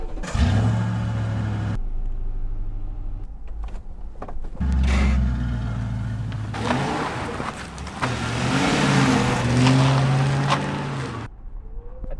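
A Ford Crown Victoria bought at a state auction pulls away and accelerates, its engine rising and falling through several gear changes with steady road noise, close and loud, and no talking.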